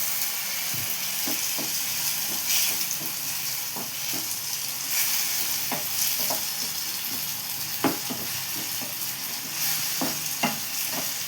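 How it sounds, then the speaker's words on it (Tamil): Ground tomato paste sautéing in a pan for a hotel-style vegetable kurma, with a constant hissing sizzle and repeated soft scrapes and taps of the stirring spoon, close up and without speech. "நல்லா வதக்கிடலாம்."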